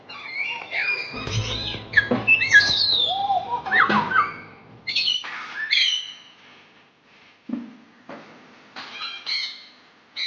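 Assorted birds in an aviary at Gazipur Safari Park whistle, squawk and chirp in bursts of varied calls, fairly close and loud, with short pauses between outbursts.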